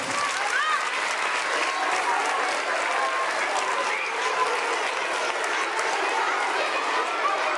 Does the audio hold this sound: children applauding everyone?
yes